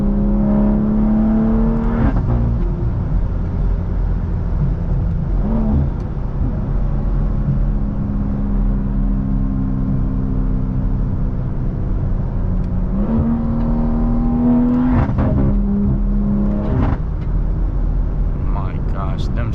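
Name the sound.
BMW B58 engine car exhaust while driving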